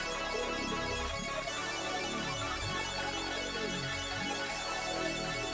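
Layered synth beat without slicing, a dense continuous wash of stacked synth layers with recurring descending sweeps and a steady, loud, unbroken texture.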